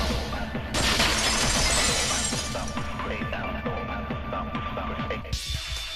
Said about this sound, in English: the girls heard the sound of the window shattering.